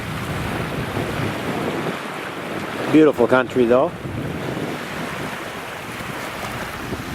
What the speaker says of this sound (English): Of course, you can probably hear the waves crashing in the background.